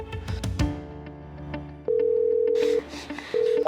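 A telephone is dialed: a few short tones and clicks give way to a steady electronic ring or dial tone that sounds, pauses briefly, and resumes, clear and close over a quiet background.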